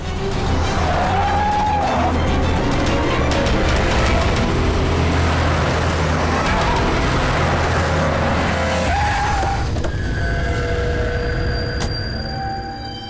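A car overtakes a taxi on a city road, with loud engine roar and tire noise sweeping past nearby for several seconds before fading into quieter traffic, and no speech.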